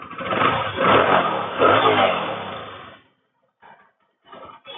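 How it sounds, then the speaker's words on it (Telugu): A vehicle engine runs loudly with rising revs for about three seconds, then cuts off, followed by a couple of brief bursts. "ఇంకా ఇంజిన్ బీటింగ్లో ఉంది, ఇప్పుడు స్టార్టింగ్లో ఉంది"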